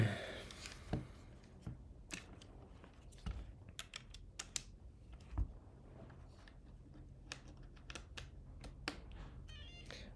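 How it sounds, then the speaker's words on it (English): Steady, fast typing on a computer keyboard, with many sharp, quiet key clicks in an irregular rhythm, heard close and alone for about ten seconds. "let's see how I do typing on this keyboard flat"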